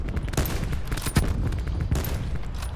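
Video game battle gunfire: rapid dense bursts of shots and booms run continuously at full loudness, with a few sharper cracks standing out and no voices over them.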